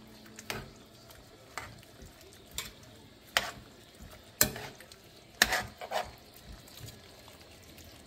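A spoon stirs cheese through a jambalaya penne pasta with shrimp and chicken in a pot, producing repeated soft scrapes and clinks at a slow uneven pace over a faint simmer, close by with no talking.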